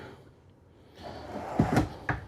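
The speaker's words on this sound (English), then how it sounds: "So you got a pull-out drawer located here." A pull-out drawer opens inside a 2026 Newmar Dutch Star 4340 motorhome, giving a few close, quick wooden slides and knocks in a short burst with a final bump, over a quiet room with no talk.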